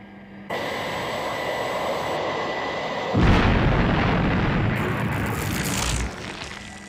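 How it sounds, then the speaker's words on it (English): Missiles exploding just beneath the Thunderbird 2 aircraft, a sudden loud blast rising out of an engine drone and rumbling on for about three seconds before dropping away. "They exploded right beneath me."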